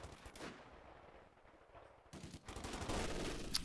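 A .50 cal machine gun fires in the Company of Heroes 2 battle game amid other distant combat noise, with faint rattling bursts that grow denser and louder toward the end.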